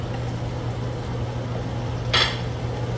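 Vegetables drop into a pan during cooking of chicken and shrimp fettuccine Alfredo, giving a single brief clatter over a low steady kitchen hum, with no talk.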